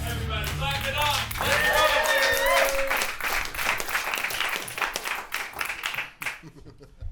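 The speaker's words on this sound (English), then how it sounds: "Everybody, clap it up." An audience claps at a weekly rap battle league show, a steady wash of applause with cheers and voices over it, thinning out near the end.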